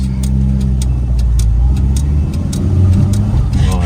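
Old Skoda Favorite with a manual gearbox running on the road, its engine droning loud and steady while faint rhythmic ticking and mechanical clatter sit over the engine noise.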